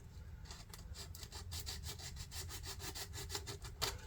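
Drywall sandpaper scrubs a 1/350 plastic model of the USS Enterprise Refit in quick, regular back-and-forth strokes, close and fairly quiet, with no talk.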